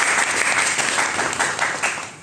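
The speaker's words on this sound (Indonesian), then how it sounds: "Beri tepuk tangan." Steady audience applause from a crowd at a talk or ceremony, continuous clapping at a moderate, even level for its whole length.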